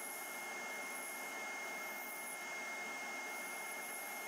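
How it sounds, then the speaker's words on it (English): A vacuum chuck on a woodturning lathe gives off a steady, even hiss and hum from its pump and airflow. It stays at the same level throughout, with no talking. "And again, I'm using a vacuum chuck."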